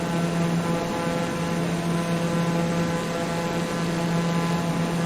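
Steady drone of a TBM 930 turboprop engine in Microsoft Flight Simulator 2020, a continuous even hum with a strong low tone, constant in level throughout and heard alone.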